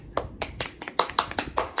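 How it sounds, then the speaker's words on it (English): A short burst of hand clapping in a classroom setting, about ten distinct, fairly close claps in an uneven rhythm, with no talking over them. "Round of applause"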